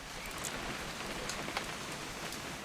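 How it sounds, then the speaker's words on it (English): Steady rain in What Remains of Edith Finch, a dense even hiss of drops pattering on surfaces with a few brighter splashes, constant and fairly close with no voices. "It's gonna rain the whole weekend"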